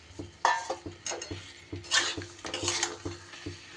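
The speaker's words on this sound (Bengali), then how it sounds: "এইবার দিয়ে দিচ্ছি আমি ভেজে রাখা চিকেনটা" Pre-fried chicken goes into a pan of fried spice masala for curry, and a metal utensil clatters and scrapes against the pan in repeated stirring strokes over a faint sizzle.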